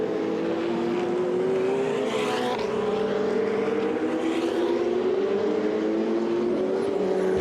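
Ferrari 488 Challenge race car engine at the Valencia circuit, a loud sustained high-revving wail that rises steadily in pitch, with a brief shift dip and overlapping engine tones of other cars.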